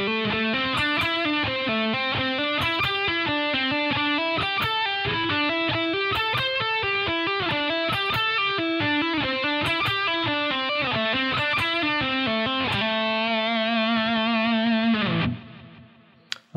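A metal pentatonic lick played on a heavily distorted electric guitar at slow tempo, a steady run of picked notes that climbs and falls, ending on a held note that rings out before cutting off.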